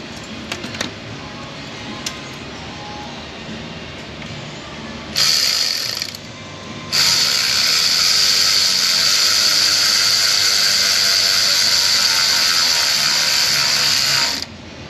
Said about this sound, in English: Let's go fetch a 11 mil or 7/16 and tighten down our band clamps.